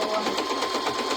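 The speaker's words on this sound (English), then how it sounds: "I'm going to sew these straight lines across too" A sewing machine runs steadily, stitching straight quilting lines across a fabric bowl cozy, a continuous close mechanical whir with fast, even pulsing and no break.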